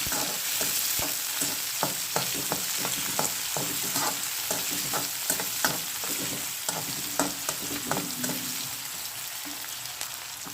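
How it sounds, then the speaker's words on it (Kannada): Chopped onion and green chillies fry in a pan with a steady sizzle, punctuated by repeated sharp scrapes and clicks of stirring throughout. "ಕಟ್ ಮಾಡಿರುವಂಥ ಈರುಳ್ಳಿ ಹಾಗೆ ಹಸಿಮೆಣಸಿನಕಾಯಿ, ಒಂದು 2 ನಿಮಿಷ ಚೆನ್ನಾಗಿ ಫ್ರೈ ಮಾಡೋಣ"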